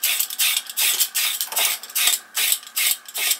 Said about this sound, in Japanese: 皮剥き器やな、これね。